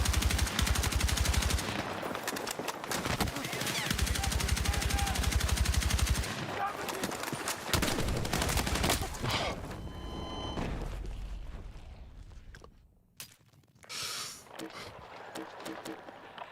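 AK-205 rifle fire in Battlefield 6 rattles in long, rapid automatic bursts, loud and close, with pauses and a few shorter volleys near the end while someone talks over the action.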